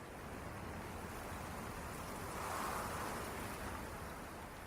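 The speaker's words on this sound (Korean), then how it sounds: "아, 왜 이렇게 바람이 불지?" Strong wind blows steadily on a cold day that feels like winter returning, a dense continuous roar that swells slightly in the middle and stays loud with no voices.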